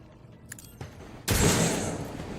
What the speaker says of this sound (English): let's shoot this dude